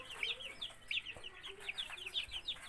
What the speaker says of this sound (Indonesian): ini boleh teman-teman lihat ini ayamnya sehat-sehat dan gede-gede